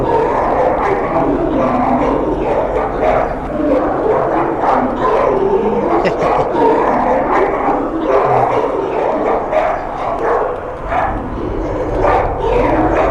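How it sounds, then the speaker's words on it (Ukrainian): Dogs barking repeatedly in the video game Amenti, a steady run of barks and yips mixed into dense, loud game sound with no clear pauses. "Собаки, блять!"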